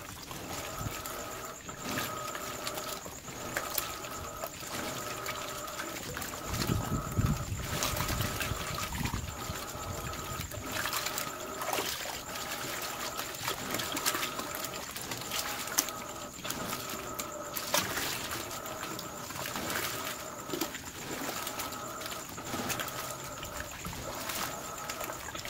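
An Electrolux Dual Filtro Turbo MAX 8 kg prototype washing machine runs a normal wash cycle at maximum water level. Water sloshes and patters with repeated agitation thumps over a steady motor hum, heard close and alone.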